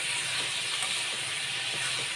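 Shredded cabbage sizzles in hot oil in a pan, a steady, even hiss that holds close and fairly loud from start to finish with no talking.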